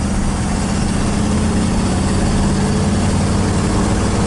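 Engine of a 1972 Ford F100 XLT short-bed pickup truck running at low speed on a test drive, a loud, steady low rumble that continues unbroken with no voices.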